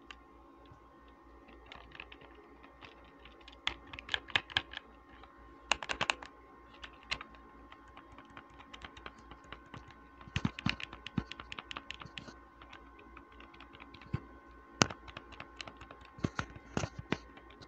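Buttons on a Supreme-branded Game Boy-style controller clicked by hand in quick irregular bursts, close and crisp, with short pauses between flurries of taps and no talking.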